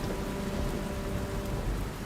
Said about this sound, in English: Rain poured. Thunder crackled, lightning flashed.